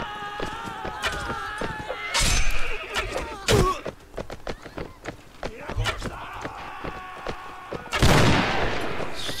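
Gunfire rings out in the samurai-era Mount & Blade Gekokujo video game: several sharp, separate shots land at uneven intervals among thuds and battle clatter, some loud and close, others farther off.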